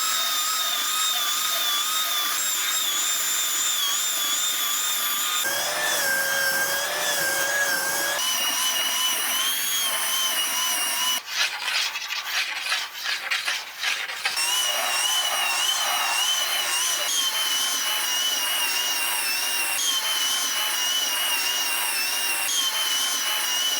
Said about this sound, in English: Since there's quite a bit of resin, I'm gonna hit it with belt sander first and then with palm sander.